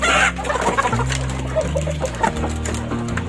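KUB chickens cluck repeatedly in short, overlapping bursts, fairly close, with a brief louder squawk at the start and some rustling.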